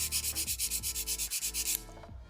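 A 240 grit file rubs along the thinned edge of an acrylic nail in about fourteen quick, even strokes, close and steady, then stops abruptly and leaves faint handling noise.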